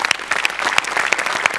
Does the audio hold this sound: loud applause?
yes